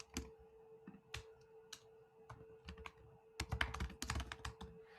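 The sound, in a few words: typing code on a computer keyboard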